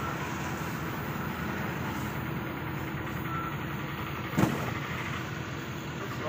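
The engine of a shikara boat cruising the Kerala backwaters near Alleppey, a steady, continuous low motor drone throughout with one brief thump partway through and no voices.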